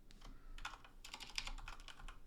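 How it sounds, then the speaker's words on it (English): Computer keys click in a quick, uneven run of soft taps, close and faint, with no voice over them. "let's just go in here and go and type in hidden"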